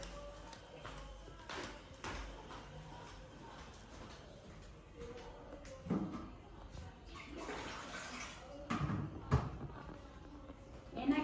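A water container being refilled in a village household, steady running and splashing water with occasional knocks and bumps, fairly close and moderately loud throughout.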